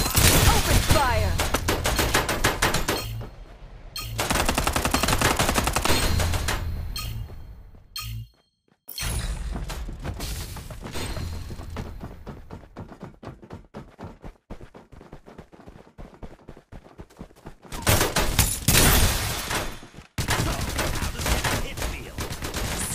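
Gunfire in a Farlight 84 mobile firefight: dense rapid bursts of automatic shots and sharp cracks, loud and close, with brief pauses and a short silent gap midway, amid in-game effects.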